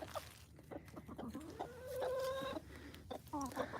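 Several chickens cluck nearby, with short choppy calls and one drawn-out, higher squawk in the middle.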